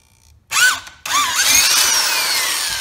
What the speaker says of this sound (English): And we're just gonna drill.